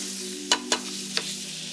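Onions frying and softening in a pan with a big pinch of salt and pepper give a steady sizzle, broken by three sharp stirring clacks of a utensil against the pan.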